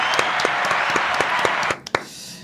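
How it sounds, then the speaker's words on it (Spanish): Audience applause in a radio program studio, a cluster of distinct hand claps at a brisk, uneven pace, close and fairly loud, tapering off sharply near the end with a couple of final claps. "Fuerte aplauso."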